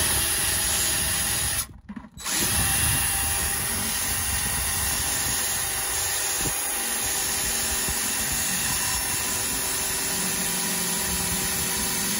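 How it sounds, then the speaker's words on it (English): A one-inch Irwin speed bore bit drills into a Carolina Skiff boat hull, a steady grinding power-tool whir that briefly cuts out near the start and then continues evenly and close. "the Irwin speed bore, one inch because it is the fastest speed bore ever"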